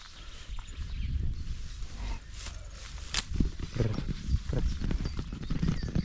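A mare's hooves clip-clop at a walk on hard ground, irregular steps at moderate distance among faint outdoor background noise.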